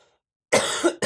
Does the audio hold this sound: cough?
yes